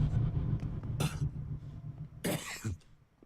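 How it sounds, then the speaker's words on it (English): A game character in Observer coughs twice, a harsh, raspy cough. Each one is a short burst over a low, dim ambient background in the game. "It's what's his face actually coughing."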